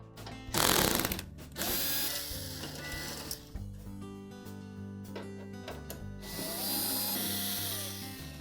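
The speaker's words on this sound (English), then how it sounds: "our next step will be to remove these 4 screws that go through that black bracket" Power screwdriver backing out screws from the black bracket on a GE range oven door: a close whirring motor with a rising, shifting pitch in several bursts, interrupted by brief pauses and clicks.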